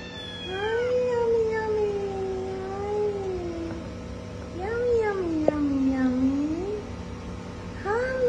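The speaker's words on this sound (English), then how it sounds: "the kitten is crying for his mother" A kitten crying for its mother on a street at night meows in long, drawn-out wailing cries, several in a row, with a low rumble of background noise.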